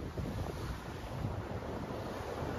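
Wind and sea on a racing sailboat far out on a flat ocean crossing, a steady rushing of air and water wash buffeting the microphone, moderately loud and unbroken, with no voices.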